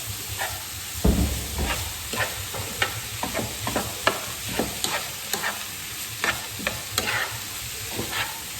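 Lasagne meat mixture browning in a pan while being stirred vigorously: loud continuous sizzling broken by repeated scraping stir strokes at an uneven rhythm, with no talking.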